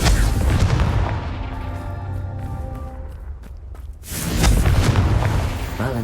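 A fiery Confringo spell blast in the video game Hogwarts Legacy, heavy booming explosions with deep rumbling at the start, a quieter tonal lull, then another loud burst and roar.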